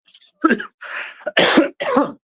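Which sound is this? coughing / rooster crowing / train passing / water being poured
coughing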